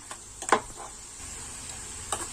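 Beans and coconut sauté in a pan as a spoon stirs them: a few sharp scrapes and clicks over a quiet, steady sizzle, with no talking.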